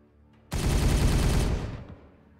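Gunfire from the Warhammer 40K Regicide video game erupts suddenly as one dense, loud rattling burst lasting about a second, then tails off into a fading rumble, with no voices.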